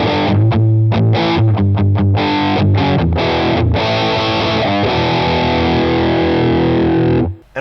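Heavy distorted electric guitar through a Boss Katana Mk II amp's metal zone setting chugs palm-muted riffs into sustained saturated chords, loud and close, alone before cutting off at the end.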